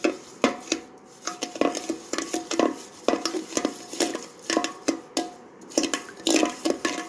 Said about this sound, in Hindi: घी, और चीनी, और इन सब चीज़ों को अच्छी तरह मिक्स कर लूँगी।